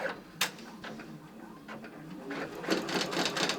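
A Brother PRS 100 embroidery machine basting fabric held in the hoop gives off a steady, moderately quiet mechanical whirr with rapid stitching ticks and a few sharper clicks, heard alone without talk.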